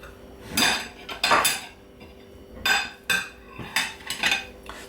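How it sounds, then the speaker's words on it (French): Minced meat pressed into a burger patty with a drinking glass, giving several separate knocks and clinks of glass against a plate or board, close and distinct with short pauses between them. "j'ai pris un verre et je tasse donc ma viande hachée"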